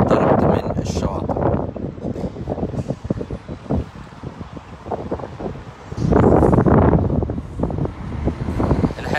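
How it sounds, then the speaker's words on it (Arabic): Strong wind on the Red Sea coast buffets the microphone in loud, uneven gusts with a heavy blast near the end, and a person talks through it. "هناك ما يعني نشاط ملحوظ وكبير للرياح في البحر الأحمر وتزيد حدته كلما اقتربت من الشواطئ"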